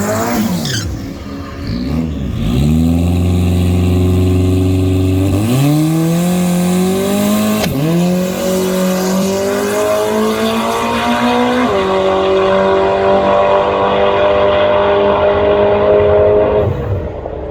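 A big-turbo Toyota 3RZ engine in a Foxbody Mustang roars loudly down a drag strip, revving up through several gear changes with rising pitch each time before the sound fades at the end of the pass.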